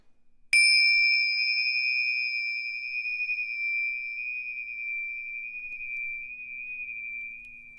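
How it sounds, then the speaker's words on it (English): Tibetan brass chimes are struck once, giving a bright, clear ring that lingers and slowly fades over several seconds in an otherwise quiet room. "I have some Tibetan chimes, and they're made of brass."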